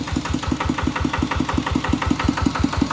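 A Kubota RT90 single-cylinder diesel engine on a power-tiller-style vehicle chugs steadily at close range, its even rapid thumping continuing unbroken with no talk.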